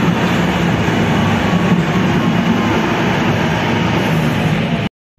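Steady, loud rumble of a tram in motion, with rolling wheel noise and a low hum that fills the whole stretch before cutting out abruptly at the end.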